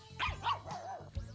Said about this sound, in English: barks like mad at the slightest hint of movement